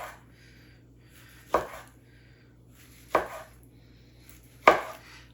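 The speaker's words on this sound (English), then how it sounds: "So I will start with the sausages, and I'm just gonna cut them." A knife slices chicken sausages into pieces on a cutting board, three distinct sharp chops spaced about a second and a half apart, close and clear in a quiet kitchen.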